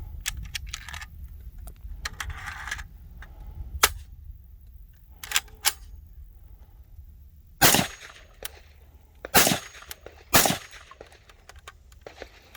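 A PS90 rifle fires Speer Gold Dot 5.7x28mm rounds in a function test. Several sharp, loud reports ring out at irregular intervals, with quieter handling clicks and rustles between shots.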